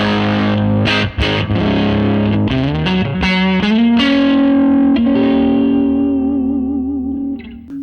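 Electric guitar played through a Bassman amp model on a TONEX pedal, distorted and fairly loud: a few picked notes and brief chord stabs, then a long sustained chord ringing out and slowly fading, with no talking.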